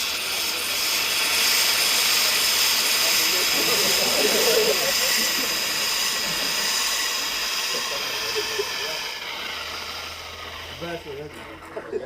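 Fire extinguisher foam jet spraying during a firefighting demonstration, with propellant gas escaping: a steady broad hiss that runs for several seconds, loud and close, and voices are heard over it.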